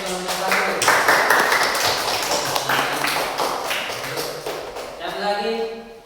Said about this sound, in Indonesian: jadi beri tepuk tangan untuk kelompok 1